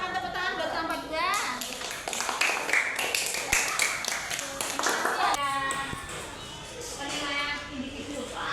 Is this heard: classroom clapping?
yes